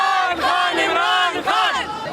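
A large crowd at an Imran Khan rally in Lahore chanting and shouting in unison, loud and close, with rising and falling cheers in waves.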